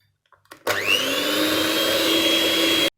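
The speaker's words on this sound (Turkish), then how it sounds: "Mikserimizle tekrardan karıştıralım." An electric mixer whirs for about two seconds as it blends cookie dough with oil and starch, starting with a quick spin-up and holding a steady high hum before cutting off sharply.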